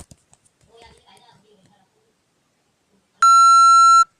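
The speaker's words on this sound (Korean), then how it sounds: "이런 식으로 삐소리가 나옵니다." Single long, loud steady censor beep tone, a pure electronic bleep lasting under a second, following faint scattered talk and then quiet.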